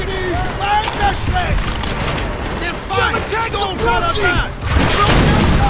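Rapid bursts of Call of Duty: World at War gunfire and heavy booms fill the scene, with excited voices talking over the shooting throughout.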